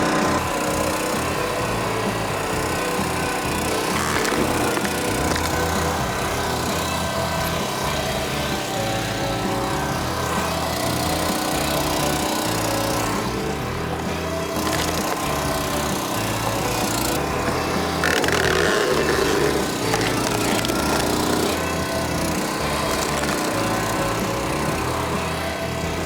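A high-flow hydraulic log splitter drones steadily on its engine while splitting large wood on the extension stroke. The engine runs loud and close throughout, with brief strains and knocks from the wood as it splits.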